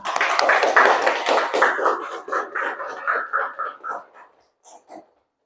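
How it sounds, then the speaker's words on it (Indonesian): Students in a classroom clap their hands in a rhythmic pattern, loud and close at first, then slowing and thinning into a few final claps. "Tepuk tangan"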